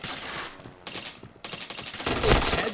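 Rapid bursts of gunfire from the online shooter game Point Blank, dense volleys with a brief gap near the middle, loud and close, with no talking over them.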